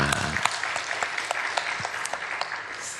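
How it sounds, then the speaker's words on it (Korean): At a special Korean early-morning prayer service, a church congregation gives a sustained round of clapping. The applause is dense and moderately loud, with a soft backing of instrumental tones underneath. "우리 하나님께 박수로 영광 올려드리겠습니다"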